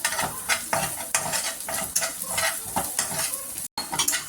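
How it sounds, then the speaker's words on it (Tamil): Garam masala and a pinch of pepper being stirred into a frying pan of sizzling podi idli masala, with steady scraping strokes over a continuous close frying sizzle and no talk. "கொஞ்சோண்டு கரம் மசாலா, ஒரு பிஞ்சு பெப்பர் போட்டுட்டு மிக்ஸ் பண்ணி விட்டுக்கலாம்."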